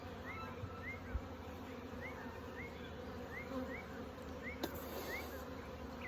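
A swarm of honeybees buzzes steadily around an open hive outdoors, a continuous hum with individual bees whining past the microphone, fairly faint and with no talk.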